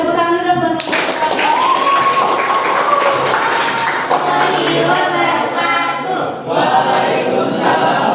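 Classroom audience clapping for a group presentation, a steady patter of many hands that carries on under and between voices talking.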